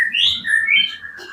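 An Oriental magpie-robin, a murai batu recovering from its moult and short of nutrition, gives a brief clear whistled call with rising and falling phrases, close and alone.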